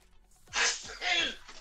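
A man sneezes twice in quick succession nearby, each a sharp breathy burst, followed by a short gasp.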